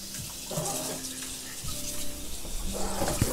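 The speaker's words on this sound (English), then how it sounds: "I'm also going to start our water for the edamame" Tap water runs into a pot being filled for edamame in a home kitchen, a continuous splashing stream with a few clinks of the pot.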